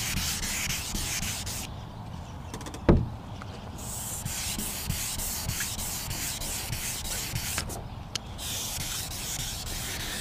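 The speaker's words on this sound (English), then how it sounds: "you can feel as you're sanding, you can feel the oxidation getting scratched off" Car clear coat, badly oxidized, being hand-sanded off the paint: a steady, close scratchy rubbing that runs continuously with a few sharper clicks and taps, no voices.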